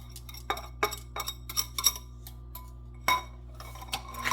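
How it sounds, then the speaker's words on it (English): Eggs for a sweet potato pie are beaten in a bowl, with a utensil tapping and clinking against the dish in irregular, fairly close strokes over a steady low hum. "Gonna beat them just a little bit to help just break the yolk up."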